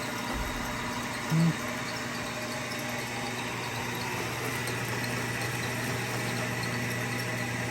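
A honing machine working a Boosey & Hawkes euphonium piston runs with a steady, even mechanical hum, marked by one brief low thump near the start.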